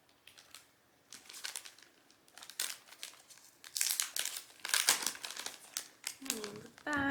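A packet of small vintage-style paper notes handled close by, with bursts of crinkling and rustling plastic packaging in irregular clumps while a person talks over it.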